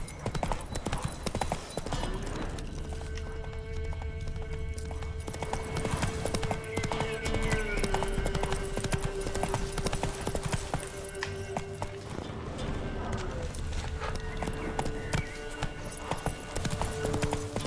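Roach the horse galloping in The Witcher 3, a fast continuous clip-clop of hooves throughout, with a brief whinny and faint voices now and then over a steady background.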